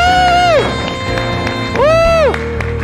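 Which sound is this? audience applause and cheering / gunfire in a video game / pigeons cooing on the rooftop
audience applause and cheering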